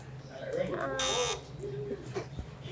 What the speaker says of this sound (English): Wait, Wait, my or buzzer buzzers.